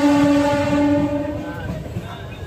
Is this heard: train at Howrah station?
yes